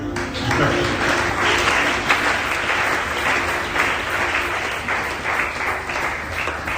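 A church congregation claps and cheers in sustained, loud applause during a service, steady and dense throughout.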